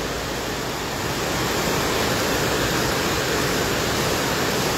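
The large Bah Bolon river flows beneath a bridge in Pematang Siantar, heard as a loud, steady broadband rush of water that stays constant throughout with no voices.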